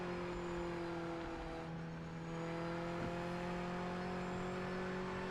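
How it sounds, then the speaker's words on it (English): A racing-game car coasting after the driver lifts off the throttle, a steady engine drone with faint whine that holds fairly even over several seconds, slightly quiet and with no speech. "when I lift off, the car is slowing down"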